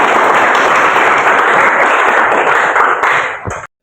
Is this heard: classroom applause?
yes